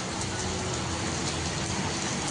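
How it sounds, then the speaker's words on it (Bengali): Heavy rain pours down in a dense, continuous roar, steady and loud throughout with no pauses. "অসম্ভব বৃষ্টি নেমেছে"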